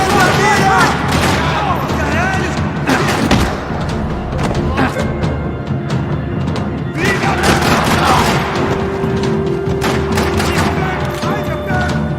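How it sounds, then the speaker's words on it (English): Dense bursts of gunfire in a parking lot in the video game Max Payne 3 rattle throughout, with booms and thuds layered in, steady and loud from start to finish under occasional voices. "Another parking lot rattling with gunfire."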